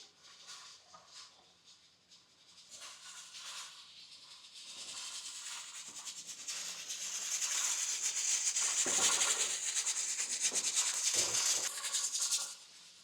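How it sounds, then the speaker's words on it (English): Pressure canner running during a day of canning chili base, its steady hiss rising and swelling louder across the stretch, with some rubbing and scraping noises mixed in, no talk. "As you can hear, I have my pressure canner going over here too."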